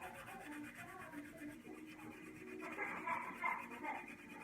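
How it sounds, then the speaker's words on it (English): Soft, steady rubbing and rasping of sandpaper lightly sanding a glitter tumbler, close by and fairly quiet, growing a bit stronger toward the end. "So I'm just lightly sanding the area that I want to do it."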